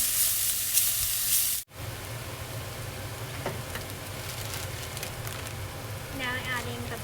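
Chopped leeks dropped into a hot pan give a steady, close sizzle and crackle that continues alone after a brief pause, with faint stirring.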